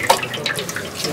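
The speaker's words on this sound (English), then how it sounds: "they're pouring the soya bean in there with some water, and then they're straining all the soya bean milk out" Soya bean milk straining through fine cloth in a Ghanaian village, a steady wet trickle and patter of liquid with small drips, close and fairly loud, with no talking.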